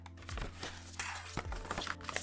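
Scissors cutting open the paper sleeve of a 72-colour set, a few short crisp crinkling and snipping sounds, close and quiet, in quick irregular bursts.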